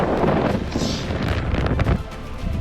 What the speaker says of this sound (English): these wind gusts are like 50 miles an hour